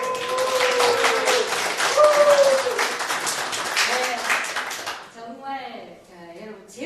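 A lecture audience claps loudly with some cheering for about five seconds, then the applause stops and a single voice starts talking.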